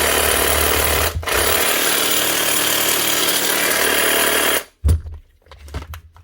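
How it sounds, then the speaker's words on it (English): A Makita DJR186 cordless reciprocating saw, just fitted with a new switch, runs loud and steady for several seconds with one brief dip, then cuts off and gives a few short bursts as the trigger is pulsed. "One Makita recip saw with a new switch."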